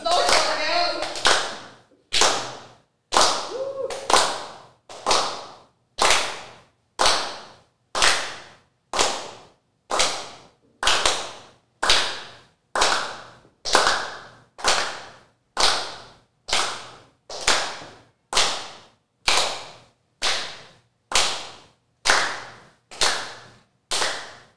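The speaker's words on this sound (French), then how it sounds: "je vais demander au public d'applaudir. Vous avez juste à suivre ce rythme-là" An audience at a seminar on seduction and loneliness claps in unison to a set rhythm, roughly two dozen sharp, evenly spaced claps each with a brief ringing tail, with a little talk near the start.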